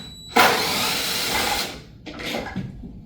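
A driver fitted with a size 5 hex bit spins out a bolt on a sewing workstation, giving a close, steady motor whir for about a second, a brief pause, then a second shorter burst of whirring.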